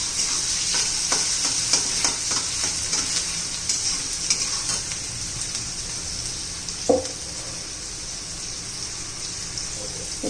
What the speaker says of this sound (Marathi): कांदा चांगला तांबूस रंगावर परतून घ्यायचा आहे